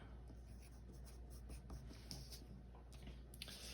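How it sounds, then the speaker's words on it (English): A colored pencil scratches across paper as a word is written: soft, continuous, close-up scraping strokes at low volume against quiet room noise. "I'm going to write the word blending."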